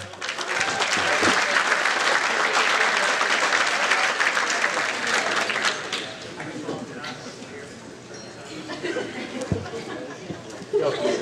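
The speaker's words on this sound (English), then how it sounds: "how about a nice round of applause again for Tim Dooley." Wedding guests clap loudly in a sustained round of applause that tapers a little toward the end, with crowd chatter mixed in.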